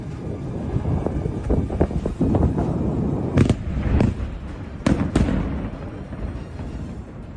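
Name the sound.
repeated explosions from drone and bomb strikes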